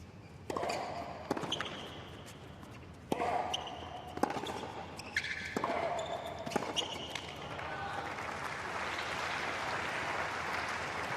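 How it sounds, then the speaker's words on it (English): Crowd applause at a United Cup 2023 tennis match, a burst of clapping swelling up after a point, with a commentator's voice over it and bounce-like thuds early on. "Applause from the crowd and 15."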